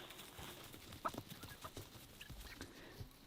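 Chickens in a backyard chicken run giving a few soft, scattered clucks, faint and somewhat distant over quiet outdoor background.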